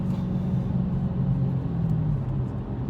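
A 2017 Dodge Challenger R/T Shaker cruising along, its engine giving a steady, loud, low rumble from inside the cabin with no one talking.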